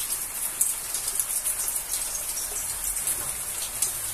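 Steady, dense hiss of heavy rain pouring down close by, a constant wash of drops with no voices.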